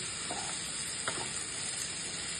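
Ivy gourd (tondli) bhaji with ginger, garlic and salt hisses in a pan, a steady close sizzle with a couple of soft stirring touches.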